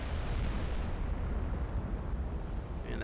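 Naval gunfire and shell hits in the Ultimate Admiral Dreadnoughts warship game form a dense, low rumbling roar of distant booms, steady and muffled, fading slightly toward the end.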